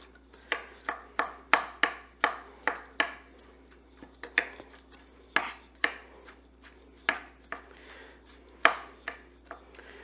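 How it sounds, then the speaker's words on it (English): A knife quickly and roughly chops food on a board in a string of sharp, close knocks, about twenty irregular strokes with brief pauses, no talking. "we could just give this a quick rough chop"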